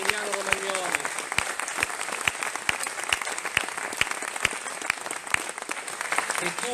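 Applause for the Riolo Terme community at a closing festival gathering, dense sustained clapping with a few sharp rhythmic claps standing out, a voice briefly audible at the start.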